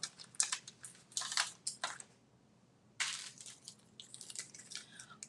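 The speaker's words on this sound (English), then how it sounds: "and then we're going to die cut it" A stamped paper jar and lid run through a die-cutting machine, giving bursts of crunching, clicking mechanical noise in two stretches separated by a brief quiet gap, close and fairly loud with no talking.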